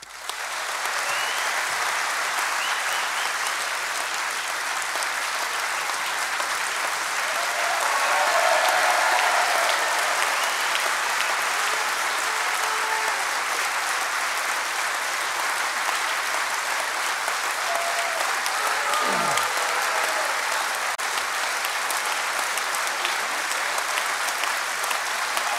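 Rapturous applause from delegates at a 2012 SNP spring party conference welcoming Alex Salmond to the stage: sustained, dense clapping from a large hall crowd that swells slightly midway and keeps going without pause.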